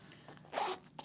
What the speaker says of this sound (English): Storage pockets, both sides of the pants with YKK zips, YKK entry zip.